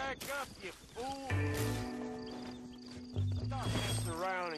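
A horse in Red Dead Redemption gives a loud whinny and snorts while hooves clip-clop in two short bursts, with game sounds and voices around it.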